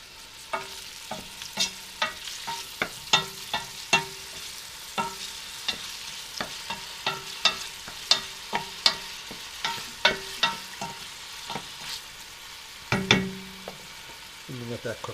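Tomato gravy cooks in a pan with a steady low sizzle, broken by repeated sharp clinks and scrapes of a utensil stirring against the pan, with a brief louder clatter near the end.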